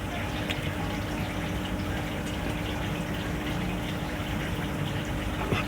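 Rice wash water poured onto chili plants grown with organic fertilizer, a continuous close splashing gush that runs steadily throughout without pause.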